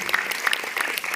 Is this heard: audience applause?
yes